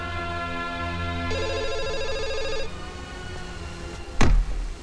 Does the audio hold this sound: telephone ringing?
yes